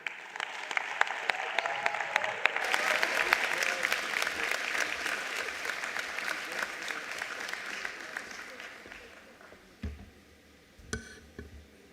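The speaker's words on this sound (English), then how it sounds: "let's please put a warm round of applause for Minister Sivue Kwahube" Audience applause for a government minister at the national announcement of school examination results, a steady roomful of clapping rising after a quiet start and fading out near the end, followed by a brief sound.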